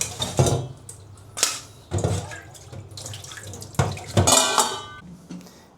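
Prawns being rinsed under running water in a kitchen for butter prawns, heard as bursts of splashing water with clinks of a colander or bowl, close and intermittent, no talk.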